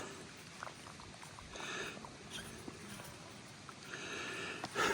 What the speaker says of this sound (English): there's some water coming, and I'm going to just take off this and let it run just naturally